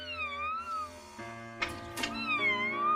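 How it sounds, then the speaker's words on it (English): A kitten meows several times in a row, high-pitched and close, with no talking. "A cat! Wow! A kitten!"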